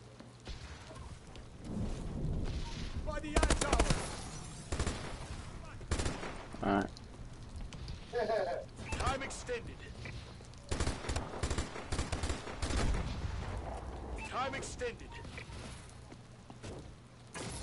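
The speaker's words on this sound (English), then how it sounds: "Suppressive fire, I'm reloading." Gunfire in a multiplayer shooter video game: repeated loud bursts and single shots cutting through a busy mix, with voices speaking among the bangs.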